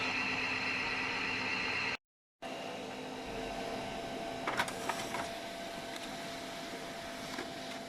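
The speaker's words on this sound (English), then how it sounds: "let's print this" A printer runs steadily with a continuous mechanical whir, printing impeller balancing results, broken by a brief silent gap, then resuming with a few faint clicks and ticks as paper feeds.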